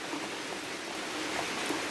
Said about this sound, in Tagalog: Maulan, oh. Yan yung ulan.